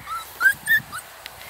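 Excited Pocket Beagle puppies whimper in short, high, thin cries, a few quick yips close together, up close with no talking.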